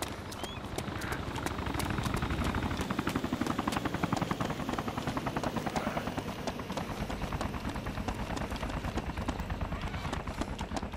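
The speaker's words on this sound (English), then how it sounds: "There's a chopper." A helicopter in the video game DayZ is heard as a steady, loud rotor chop with fast rhythmic pulsing that holds throughout, without a break or any talk.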